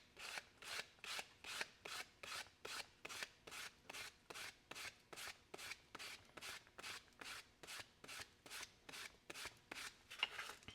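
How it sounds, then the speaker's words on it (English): Rhythmic sanding strokes on leather for a snakeskin wallet, about twenty-five evenly spaced scratchy passes back and forth, close and fairly quiet, with no talking. "I'll sand there and this one as well."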